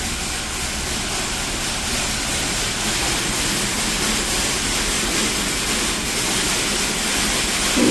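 High-pressure rinse water sprays steadily in a Mark VII Aquajet XT car wash, a loud continuous broadband hiss and rush holding for the full stretch with no breaks.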